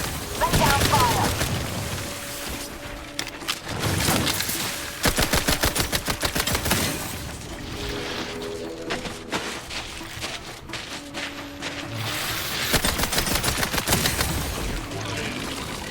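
Gunfire erupts in bursts during a firefight in The Outer Worlds 2, rapid volleys of shots coming and going against game ambience, loud and close, with a brief voice between bursts.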